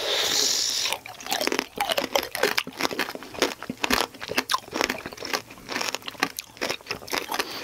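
Close, loud crunching bites into candied tanghulu fruit with a hard sugar shell, eaten in a Korean mukbang ASMR setting; dense, rapid crackles and crunches come one after another with no talking.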